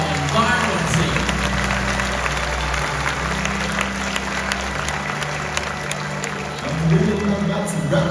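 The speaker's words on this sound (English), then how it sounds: "let us now take a moment to give a round of applause to these amazing birds" Crowd clapping at an outdoor bird show in Singapore's Bird Paradise, sustained applause over a low steady hum and background music, with a voice speaking intermittently.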